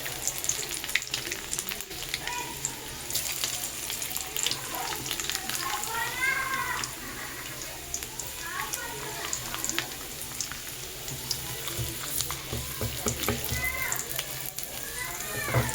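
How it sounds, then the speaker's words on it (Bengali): Garlic tempered in hot oil left over from frying pakoras for a home-style chili chicken crackles and sizzles loudly and steadily throughout, with dense spattering pops close up and no pause. "এবার আমি ওই পকোড়া ভাজা তেলের মধ্যেই সবার প্রথমে একটু রসুন ফোড়ন"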